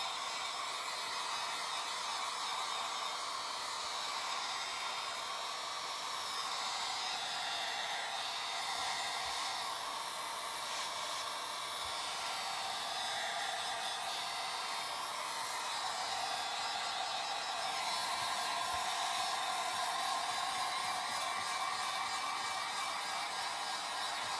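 A hair dryer runs steadily the whole time during resin crafting, a loud, even blowing roar with no talking over it.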